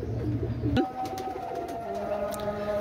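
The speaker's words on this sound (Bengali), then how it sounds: "দেখেন ভিউয়ার্স অসাধারণ কবুতর।" A pair of Kamagar pigeons cooing close by, soft repeated throaty coos following a brief louder call at the start.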